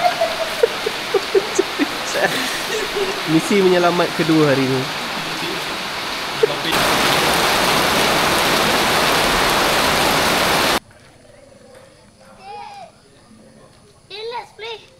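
Rain falls at a glamping park in a steady, broadband hiss that swells loud midway before dropping away. People talk over it at the start and again near the end.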